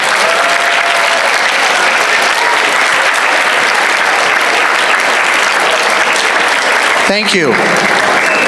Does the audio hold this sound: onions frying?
no